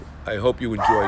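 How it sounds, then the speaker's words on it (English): A small Bichon Frise dog barks and yips twice in quick succession, close and loud, over someone speaking. "He's a Bichon Frise who's got a loud mouth and barks when he shouldn't."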